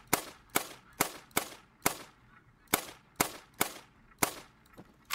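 Rifle shots ring out in the hunting video game theHunter: Call of the Wild, about ten sharp loud reports at a fairly even pace, each trailing off in a brief echo, with no talking.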